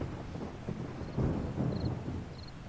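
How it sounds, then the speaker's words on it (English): Thunder from lightning in the video game 7 Days to Die rolls in as low, rumbling bursts that swell midway, over a faint bed of wind and rain with a few small high chirps. "It's lightning"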